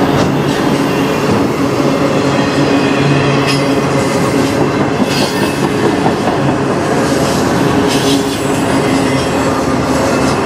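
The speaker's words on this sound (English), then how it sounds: "Still, good train." A CN freight train hauling autoracks, led by ES44DC and SD70M-2 locomotives, rumbles past close by, a continuous loud roar with rattling wheels and faint squeals, no voices.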